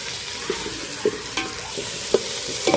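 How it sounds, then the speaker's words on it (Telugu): Onions and ginger-garlic paste fry in a pan with a steady sizzle, while a spoon scrapes and taps against the pan every half second or so, close and clear. "ఉల్లిపాయలు వేగిన తర్వాత అల్లం వెల్లుల్లి పేస్ట్ వేస్తుంది ఇది కూడా పచ్చి పోయే వరకు బాగా వేయించుకుంటే సరిపోయింది"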